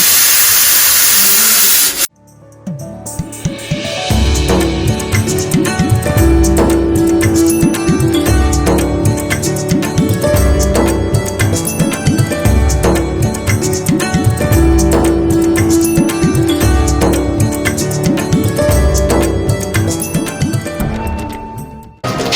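A pressure cooker releases steam when its whistle weight is lifted off, a loud, harsh, close hiss for about two seconds that cuts off abruptly.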